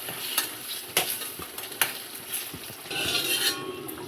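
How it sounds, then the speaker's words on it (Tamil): A pot of kuzhambu curry with drumsticks cooking close up, a steady bubbling sizzle broken by a few sharp clinks of a utensil against the pot. "குழம்பு நல்லா கொதிச்சிட்ருக்குது."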